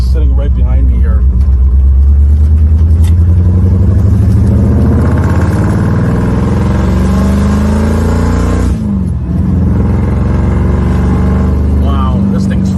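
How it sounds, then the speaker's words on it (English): Loud muscle car exhaust rumbles and revs steadily up close, a deep throaty drone that swells as the car accelerates, with a brief dip near the end before the engine pulls again. "The car's got some loud exhaust"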